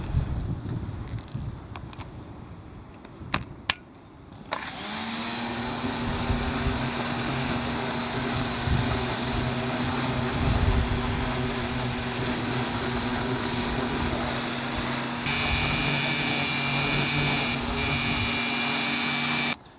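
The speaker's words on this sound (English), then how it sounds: "I'm going to grab the patio cleaning attachment next and see how we get on with that one." An ALDI pressure washer fitted with a patio cleaning attachment, used on a rusty patio surface, starts up after a few clicks and knocks, then runs as a steady, loud mechanical whine with a broadband spray hiss, continuing alone without speech.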